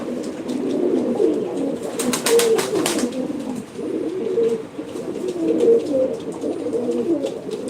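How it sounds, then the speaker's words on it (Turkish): Breeding pigeons coo in low, throaty rolling phrases that repeat close by, with a brief burst of wing flapping or rustling partway through and a continuous murmur of several birds. "bunlar normalde benim damızlık kuşlarım bak"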